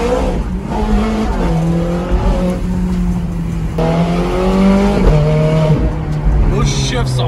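A Nissan GT-R accelerates hard from inside the cabin, its engine climbing in pitch through repeated rising sweeps with sharp drops at each abrupt gear shift, loud and close, while people talk over it.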